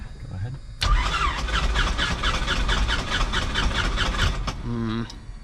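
A small training airplane's engine is cranked by its starter: a rapid, rhythmic chugging turnover lasting several seconds, loud and close inside the cockpit, stopping abruptly without catching, with brief talk before and after.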